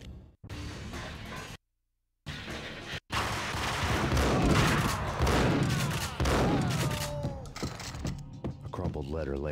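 Explosions and gunfire during a firefight in the video game Max Payne, dense rumbling blasts and bursts with brief dropouts, loud and close, with voices shouting in between.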